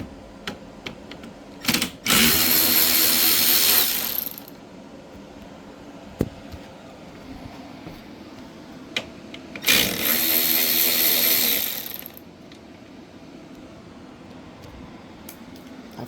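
Power tool driving out T25 bumper bolts on a 2013 Audi A4 Quattro 2.0T, two separate loud whirring bursts of about two seconds each, with quieter clicks and handling noise between them.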